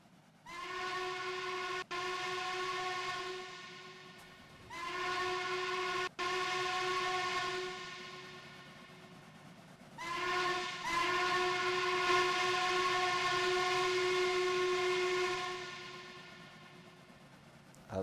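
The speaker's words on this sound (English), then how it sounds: "I love the Norfolk and Western hooter." A Norfolk and Western hooter whistle sounds on a model train layout, several sustained chime blasts with short pauses between them, the last held longest, fairly soft and clear with no talking.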